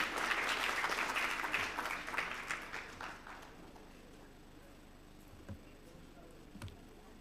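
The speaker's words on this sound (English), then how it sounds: "Let's give him a round of applause." Audience applause at a summit welcoming a speaker to the stage: a fairly faint burst of clapping that fades after about three seconds, leaving quiet room tone and a few stray claps.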